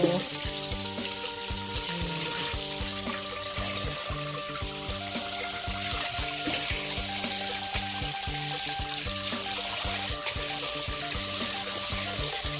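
Running tap water splashes steadily into a sink, with wet handling and rinsing noises as a whole free-range chicken is washed under the stream.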